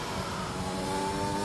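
A race car engine in a racing video game accelerates out of a corner at Monza, its steady rising drone held at a moderate distance and fairly quiet, with no voices.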